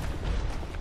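A deep, rumbling explosion in the video game Dark Souls II, a short, loud low boom with no talk over it.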